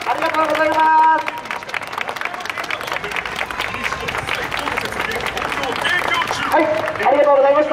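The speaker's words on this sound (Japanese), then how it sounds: "では皆さん、拍手をよろしくお願いします。" A crowd at an outdoor street rally outside Yokokawa Station in Hiroshima breaks into sustained applause, a dense clapping wash mixed with crowd murmur, voices and tonal sounds from the street.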